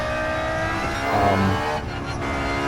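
A Toyota Alphard van in a racing video game, its engine droning steadily with a rise in revs, then a brief dip as it shifts or lifts off.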